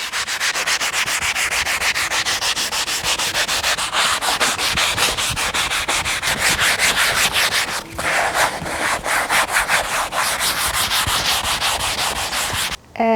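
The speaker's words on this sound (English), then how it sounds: "So let's get sanding." Steady, continuous hand sanding with rapid back-and-forth rasping strokes, close and loud throughout, briefly pausing near the end.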